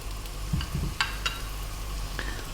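Garlic and carrots sizzle softly in a pan for fried rice, alongside a low steady hum, a few sharp utensil clicks and light stirring, with no one talking.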